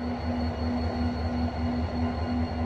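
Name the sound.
Moroccan Oriental Desert Express train with DH series locomotive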